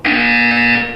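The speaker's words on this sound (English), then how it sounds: "You will hear a buzzer." Buzzer from the video game Portal 2, a single loud, steady electronic tone lasting about a second, harsh and buzzy, sounding alone.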